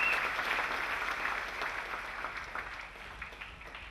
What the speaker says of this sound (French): Clap for our Lord Jesus Christ.